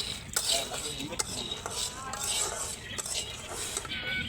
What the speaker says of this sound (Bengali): তোর মা বাড়তে রসুন কাটতেছি আর এই পেঁয়াজটা কাটতেছি